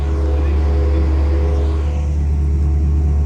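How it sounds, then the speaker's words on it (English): A car's radiator cooling fan running flat out, a loud constant whooshing drone with a low engine hum underneath, steady for the whole stretch. "Fan's gone all the way up now."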